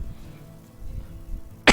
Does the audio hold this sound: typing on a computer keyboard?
no